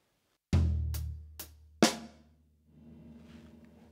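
A drum kit plays a linear pattern spread across floor tom, hi-hat and snare: four close, loud single hits in a quick uneven rhythm, each ringing out. A soft, busy background follows at the end.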